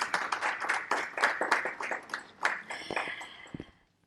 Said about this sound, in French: Ça mérite vos applaudissements